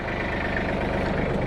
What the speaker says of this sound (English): Now we can pull the tractor forward slowly.